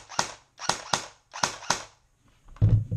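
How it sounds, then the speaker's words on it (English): An ASG CZ 805 Bren airsoft rifle fires five crisp semi-automatic shots in a fairly even rhythm without a magazine, close and loud, followed by a duller mechanical clunk. "Quick rate of fire test. Semi-auto."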